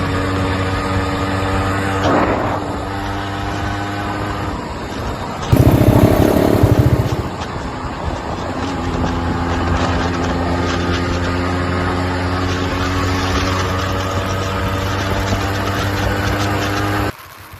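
A tuned Yamaha RXZ 5-speed two-stroke motorcycle with a power chamber exhaust runs steadily up hill roads in high gear, its loud buzzing drone holding constant throughout, with a brief harder rev surge partway through.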